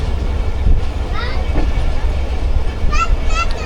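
Rehman Baba Express passenger train pulling out of Bin Qasim after a halt at the marshalling yard, a steady loud rumble with brief high squeals and tonal horn-like bursts near the end.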